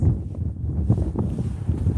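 Wind buffets the microphone with a steady low rumble and gusty swells, loud and close, with no one talking.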